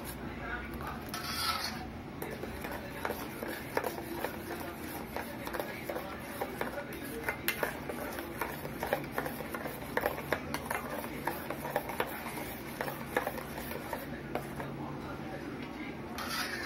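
A mixture of sugar and milk is stirred in a vessel for homemade ice cream, giving continuous scraping and rubbing that goes on steadily throughout, loud and close, with a faint high whine in the background.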